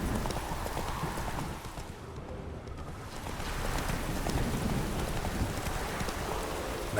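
Hooves of the horse Roach galloping in a video game, a steady rapid clip-clop carried over rain and a low rumbling backdrop, loud and continuous apart from a brief dip near the start.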